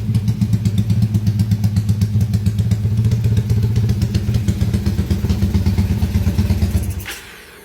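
A motorcycle engine with a faulty piston that gave off thin smoke idles loudly up close with a rapid, steady chugging pulse, then shuts off near the end with a brief clatter.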